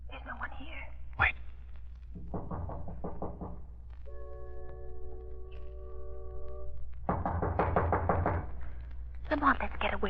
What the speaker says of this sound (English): Just go up to the door, and I'll knock.